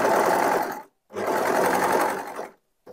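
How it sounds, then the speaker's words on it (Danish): Overlock sewing machine sews about 5 cm up a side seam of a top in two loud, steady bursts of fast whirring with a short silent gap between, close up. "så jeg tager lige og syr den ene sidesøm, bare lige sådan 5 cm op"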